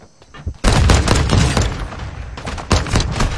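Gunfire in the video game Warzone: a loud burst of rapid shots cracks in abruptly, drops to a sustained rattle, then a second quick volley follows, all close and punchy.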